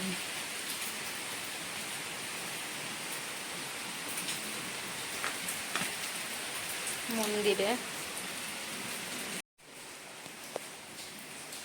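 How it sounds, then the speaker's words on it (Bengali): Heavy rain pours all around as a steady broadband hiss. Someone speaks briefly over it, and a brief gap in the sound comes near the end. "চারিদিকে বৃষ্টি একদম ঝমঝম"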